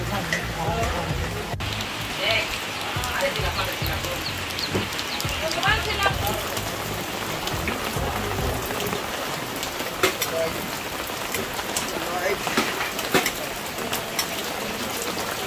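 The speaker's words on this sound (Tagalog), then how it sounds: "Umuulan talaga siya." Steady rain falls around midday on an outdoor cooking spot, a dense continuous patter of drops on surfaces with a voice speaking over it at times.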